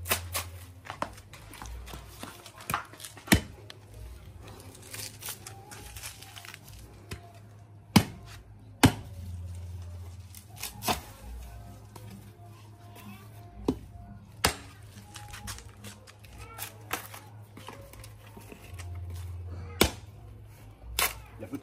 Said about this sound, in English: So right now I'm trying to chop some dry coconut.